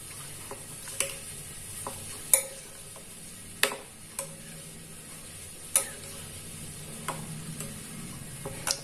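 A spoon mixes salt into sago curd rice in a vessel, with soft stirring and several light, irregular clinks against the side, close and fairly quiet, without any talking.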